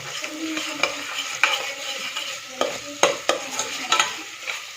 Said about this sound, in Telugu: తిప్పు, అడుగంటకుండా కొద్దిగా వేగిందాక